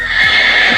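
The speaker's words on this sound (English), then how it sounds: "This is the voice of horse neigh." A horse gives a loud, close neigh, one sustained whinny filling the short moment on its own.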